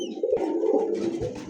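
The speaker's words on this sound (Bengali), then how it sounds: "এত সুন্দর একটা কবুতর দেখেন। এটা হলো আপনার ব্লেজার।" An American Blazer pigeon coos in soft, low, throaty rolls up close, a steady murmuring call running through the whole short moment with no talking.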